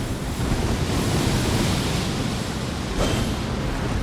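A golden wave effect in the Elden Ring Shadow of the Erdtree video game makes a steady, loud rushing wash like surf or wind, sustained throughout with a slight swell near the end.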